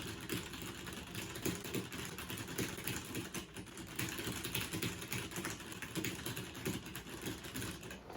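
Steady, rapid clicking of fingers typing on a computer keyboard, close and continuous with an uneven rhythm, heard alone without any voice.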